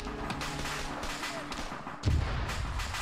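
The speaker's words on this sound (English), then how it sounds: "He's trying to fire on that group of bushes" A military video game with gunfire aimed at bushes: muffled thumps and distant shots rumble beneath a steady wash of game noise, with one heavier impact partway through.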